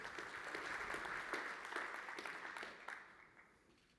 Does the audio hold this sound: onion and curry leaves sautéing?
no